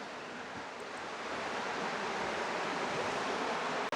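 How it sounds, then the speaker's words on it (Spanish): A river flowing below in Hope, Alaska gives a steady, even wash of broadband water noise that runs unchanged throughout, moderately distant and with no voices. "Y acá abajo está el río."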